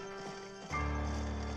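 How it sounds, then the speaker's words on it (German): Horses in the horror video game An Evil Night, with hooves clip-clopping and a rumbling surge that swells after a short quieter stretch, loud and close. "Ich höre Pferde?"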